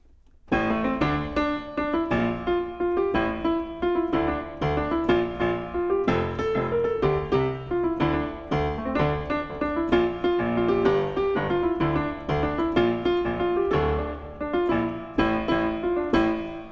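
A piano plays a steady melody from Pirates of the Caribbean over chords, close and clear, with a moderate pace and no voices.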